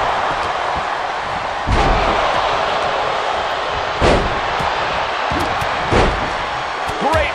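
A wrestler is slammed onto the mat with a Russian leg sweep during a WWE Royal Rumble match, giving several heavy thuds over a steady, roaring arena crowd.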